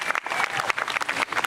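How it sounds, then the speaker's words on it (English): An audience at a Lowell folk festival claps for the dancers, a short burst of lively, uneven applause from a modest crowd, the claps distinct and fairly close. "A big applause for the dancers."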